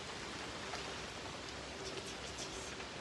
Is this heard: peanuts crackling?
no